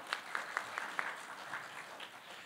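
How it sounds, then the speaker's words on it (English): Seminar audience applauding, a scattered patter of claps with a few sharper individual hand claps standing out near the start, moderately distant and fairly quiet. "that's worth a round of applause."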